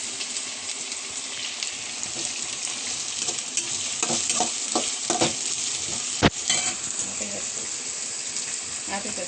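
Mustard seeds, green chillies, onions, cumin and curry leaves frying in hot oil in a pan, a steady loud sizzle with stirring scrapes close up and one sharp metallic clank partway through, no voice.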